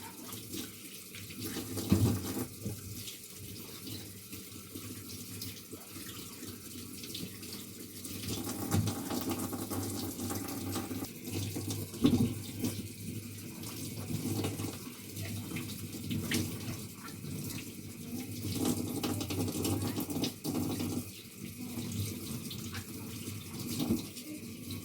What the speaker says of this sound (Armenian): Լվանում եմ երկար պամիդորները, ոչ շատ հասած մարինադի համար և 2 հատ էլ բիբար